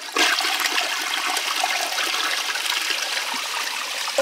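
A toilet flushes with a steady rushing, gurgling wash of water, loud and close throughout, with no talk over it.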